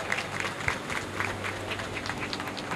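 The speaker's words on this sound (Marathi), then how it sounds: "टाळ्या वाजवून त्यांचं स्वागत करा" Applause from the audience at a retirement ceremony held at Mukand Ltd, Kalwa, Thane: a short burst of scattered hand claps from a modest crowd, moderately loud and fairly steady.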